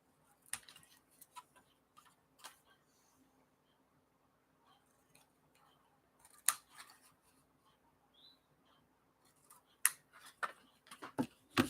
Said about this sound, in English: I'm just going to use scissors. And I'm cutting just on the score line there.